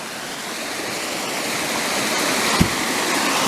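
Water pours steadily over an old dam with a wooden gate piece near an intake pipe, a continuous broad rushing roar with one brief knock partway through, heard alone.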